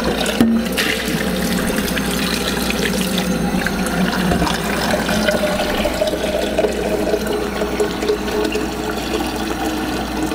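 Four pints of water poured into a homebrew beer bag for a Muntons pale ale kit, a continuous close splashing and gurgling pour that runs throughout without speech.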